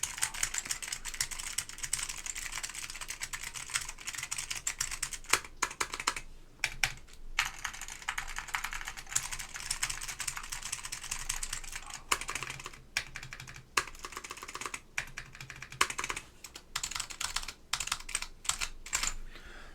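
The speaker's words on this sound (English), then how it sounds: "this is my JO2 with white clicky Alps" A JO2 keyboard fitted with white clicky Alps switches is typed on in bursts of crisp, sharp clicks, a rapid close-up clatter with brief pauses between runs.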